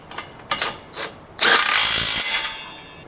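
Power tool tightening the bolts of a dual 2.5-inch sport muffler on a Subaru Impreza: a few short clicking bursts, then a loud sustained whir of about a second, then a brief trailing buzz.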